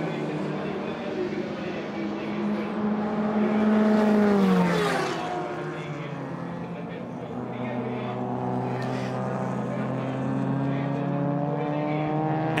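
Ferrari and Maserati race cars racing at the Hungaroring, engines droning steadily with a pitch swell around the middle as a car surges past, under continuous race commentary.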